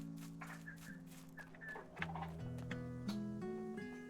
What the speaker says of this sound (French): Et la poule? Elle est où la poule?